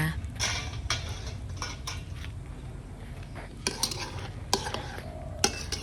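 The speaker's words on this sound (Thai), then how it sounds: "น้ำที่ลวกหมูยอก็เดือดแล้วจ้า ค้นหมูยอไปมา" Thai pork sausage (moo yor) stirred around in a pot of boiling water, a low rolling bubble under repeated light scrapes and a few sharp utensil clinks against the pot, close up with no talk.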